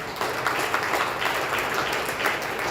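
Audience applause at a celebration party honouring Maharashtra medal winners from WVC 2023 in Oman: a steady, dense wash of clapping from a crowd, sustained and fairly loud throughout with no pauses.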